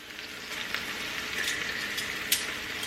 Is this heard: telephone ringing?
no